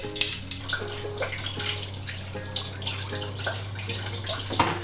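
Two tablespoons of water poured into vegan gingerbread cookie dough, a soft splashy trickle with faint clinks over a steady low hum, with no talking.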